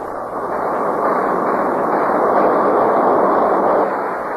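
B-52 heavy bombardment with explosions and artillery fire at Khe Sanh forms a dense, continuous rumbling roar that holds steady and loud throughout, with no distinct single blasts and no speech.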